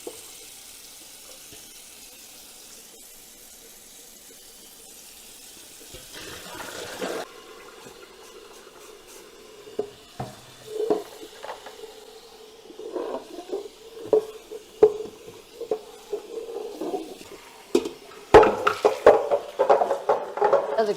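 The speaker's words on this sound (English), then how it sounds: "I'm gonna be washing it and adding just a little bit more as I scrub." A greasy pot is scrubbed in the sink with Dawn Powerwash spray, starting with a soft running-water hiss, then close, irregular scrubbing scrapes and knocks of the pot against the sink.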